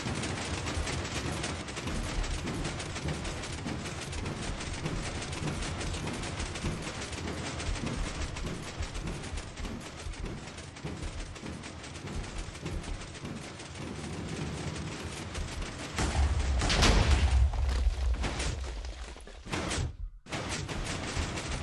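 A missile launches in Minecraft after a lever is flipped. Steady mechanical rattling and clatter runs for a long stretch, then a loud, broad burst near the end drops off abruptly into a brief silence.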